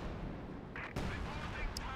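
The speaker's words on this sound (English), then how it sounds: "Major artillery coming in." Booming artillery shells land in Company of Heroes 2, a sharp blast followed by distant rumbling impacts, heard under a commentator's voice.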